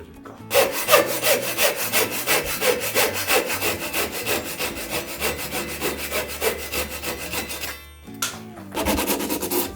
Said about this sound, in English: I sand the corner to finish it.